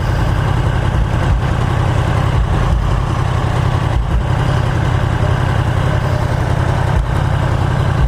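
A 2015 Yamaha R1M motorcycle idles while waiting at a traffic light, its engine giving a steady, loud low rumble that holds evenly throughout with no revving or talk.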